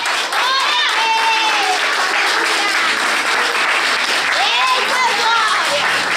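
A church congregation at a youth worship service claps loudly and continuously, dense applause filling the room while voices cry out and cheer over it throughout.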